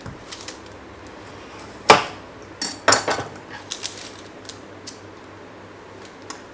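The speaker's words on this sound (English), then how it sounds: "I'm so keen to slice into it and do a taste test." A knife and utensils clink against a plate while cutting into a Tim Tam cheesecake, a sharp clack followed by a cluster of lighter taps and scrapes, close and without talk.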